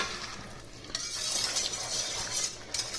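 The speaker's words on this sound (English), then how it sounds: "we're going to just whisk that up a little bit." Bordelaise sauce of Bordeaux wine, butter and bone marrow is whisked in a pan, a steady close scraping swish with a couple of brief metallic taps, no talking.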